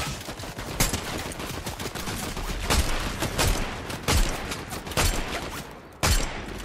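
Rapid gunfire in the Fortnite video game, dense continuous shooting with sharp louder shots punching through every second or so, steady and close, with no talk.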